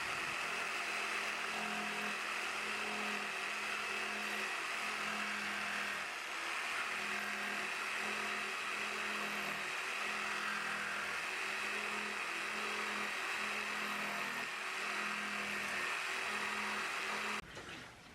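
A blade cutting along a line through a thick acrylic sheet, widening its path and kicking out melted acrylic, gives a steady, loud motorized whine with a rhythmic pulsing throughout, then stops abruptly near the end.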